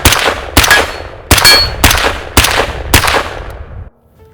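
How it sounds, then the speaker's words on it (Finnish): A string of six loud, sharp rifle shots from an Ensio Firearms KAR-21 in .223 Remington, fired at a steady pace about every half second with a suppressor fitted, each crack ringing briefly before the final one fades into silence. "Ammutaan toi lipas tyhjäksi"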